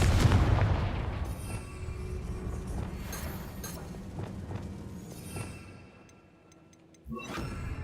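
A fiery Confringo blasting spell cast in the Hogwarts Legacy game, a loud booming burst at the start with rumbling crackle that fades out, then another sharp impact near the end.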